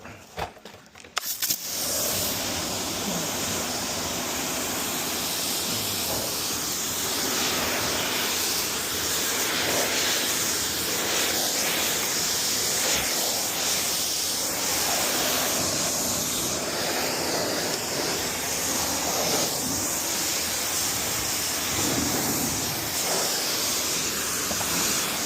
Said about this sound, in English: start to rinse over here, Sal.